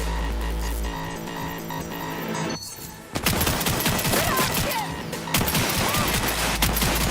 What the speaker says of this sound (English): No, for an SMG, this gun is real slow to shoot